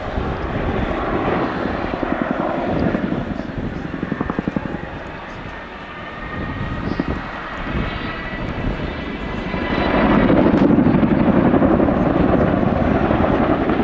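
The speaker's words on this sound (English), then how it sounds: "The aircraft comes out this descent, they're going to try and take up as much speed as possible from the ground right" An aircraft performing a display flight at the RIAT 2015 airshow drones loudly overhead, its engine tone shifting and swelling as it manoeuvres, with a commentator's voice over the public address underneath.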